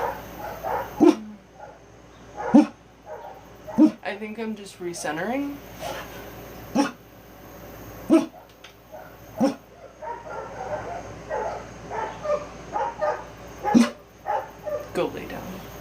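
A dog indoors barks in sharp, loud single and double woofs spaced every couple of seconds, with a short whimpering yip run in between, while a person talks quietly throughout.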